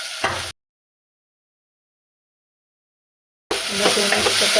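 Potato Maggi noodles are stirred in a pan, with short bursts of scraping and sizzle at the start and again at the end, separated by a long stretch of silence.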